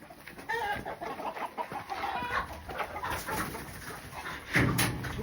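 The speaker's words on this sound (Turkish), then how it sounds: "Tavuklar uçuşuyorlar arkadaşlar." Chickens cluck and squawk nearby in a coop amid rustling, with a sudden burst of wing flapping near the end.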